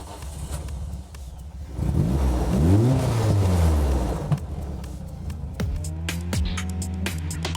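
The 2-litre engine of a Mitjet race car cranks and catches, then revs hard with rising and falling pitch before settling into a loud, throbbing idle with sharp blips, close by and with no talking.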